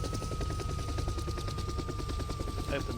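A helicopter engine in the DayZ video game thrums with a steady rapid rotor chop and a constant whine, loud and continuous throughout with no pauses.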